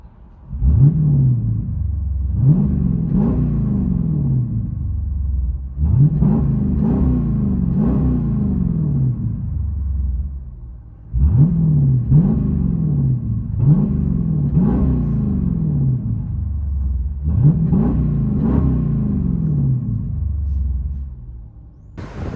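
Loud, close revving of a 2020 Jeep Grand Cherokee 5.7L HEMI V8 with X-pipe and straight-pipe exhaust, repeated throttle blips rising and falling in groups of two or three, with a steady deep idle rumble between them and no talk.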